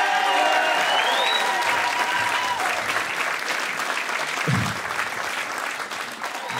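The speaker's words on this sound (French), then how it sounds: "Applaudissez la Comédie en Île, s'il vous plaît, qui nous accueille." Comedy club audience applauding warmly at a stand-up show, a dense, steady clapping that stays loud throughout, with a voice briefly talking over it.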